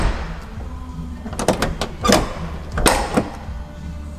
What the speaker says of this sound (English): admire how American the door sounds whenever you open and close it